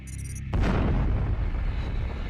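A sudden deep boom hits after a brief high tone, then a heavy rumbling roar lingers and slowly fades, loud and close; a sound effect for a cosmic explosion.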